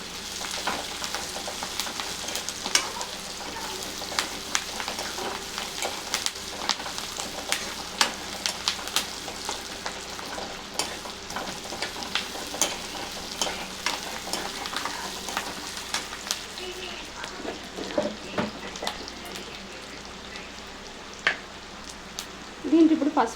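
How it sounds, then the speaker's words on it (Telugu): Onion and curry leaves soften in a pan of oil for uggani, a steady, fairly quiet sizzle with scattered crackles and spoon clicks running under the whole stretch. "ఈ ఉల్లిగడ్డ బాగా వేగన అవసరం లేదు, కొంచెం మెత్తగా అయితే చాలు."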